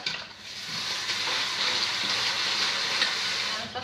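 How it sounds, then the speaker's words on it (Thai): Water runs steadily from a tap as squid and shrimp are rinsed clean for a Thai seafood salad, a continuous close splashing gush from start to finish. "คราวนี้เราก็ไปล้างน้ำนะคะ"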